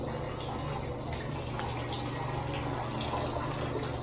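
Strong steady rush of water pouring from a tap in a house bathroom, a continuous hissing flow with a low hum beneath, close and unbroken.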